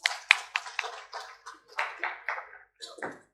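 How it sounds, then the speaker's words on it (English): Scattered, separate handclaps ring out one after another in a hall at a national conference on metals and minerals logistics, a thin and uneven round of applause that thins toward the end. "Can we have a big round of applause?"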